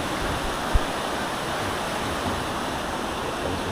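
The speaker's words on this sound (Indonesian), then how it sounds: "Sungai." River water flowing beneath a bridge between neighbourhoods makes a continuous, fairly loud broadband rush, steady like a small cascade, with one brief knock near the start and no voices.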